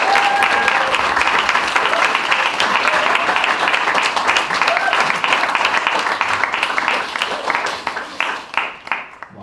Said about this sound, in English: Can we give Ruth another round of applause?